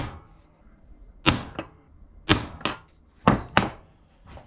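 Sharp metallic hammer strikes on a metal punch land in quick pairs, three double blows spaced about a second apart, close and loud.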